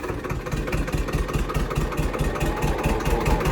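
A tractor engine idles in top gear, a steady, close, low throbbing rumble that holds an even pulse without any break.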